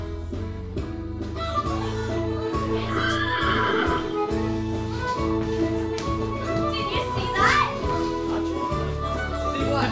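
A horse neighs in a loud, close whinny, with a second whinny later and soft hoof clops, while voices talk in between.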